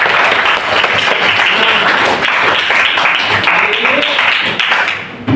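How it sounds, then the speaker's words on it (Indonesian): Students in an Islamic cultural history class applaud a classmate, loud sustained clapping with voices mixed in, fading slightly near the end. "tepuk tangan dulu buat dia"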